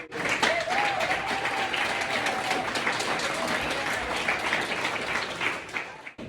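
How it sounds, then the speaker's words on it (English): Audience applause fills a movie night event in Lake Hughes, California, a dense, steady wash of clapping from a crowd that holds loud for about six seconds before tapering off at the end. "we need to have a round of applause"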